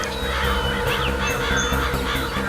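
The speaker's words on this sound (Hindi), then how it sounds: "वहाँ थोड़ा पानी दिख रहा है और बहुत सारे कौवे भी मंडरा रहे हैं" Crows caw repeatedly near a patch of water, harsh calls scattered over a steady low musical background at moderate distance.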